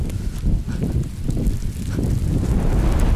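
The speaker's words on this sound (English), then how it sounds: "Oh, there's a wind." Strong wind gusts over a snowy Scottish mountain on a winter climb, a loud steady roar with low rumbling buffets against the microphone and no speech.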